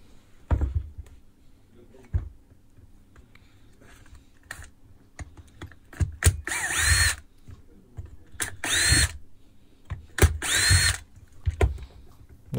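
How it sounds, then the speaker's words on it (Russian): Power tool backing out the last screws from the housing of a Makita DTW1001 cordless impact wrench, heard as several separate loud bursts, each lasting about a second, with short pauses and some handling noise between them. "Открутили последние винты."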